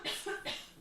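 A single short cough, a couple of quick rough bursts close to a microphone, fairly quiet and without any speech.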